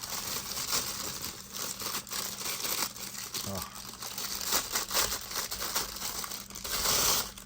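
Old tissue paper crinkles and rustles steadily while a Star Wars Vintage Collection speeder bike and scout trooper toy is unboxed, close and continuous, with a voice talking faintly over it.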